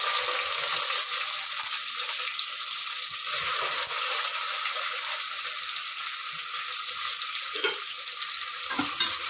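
Sliced onions with green chillies fry and stir in hot oil in a pan for mutton biryani, a steady bright sizzle with scraping spatula clicks, close and continuous with no talk.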